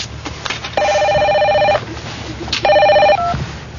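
A telephone rings loudly and close in a domestic comedy scene, giving two long electronic trilling bursts separated by a pause, followed by a brief softer tone.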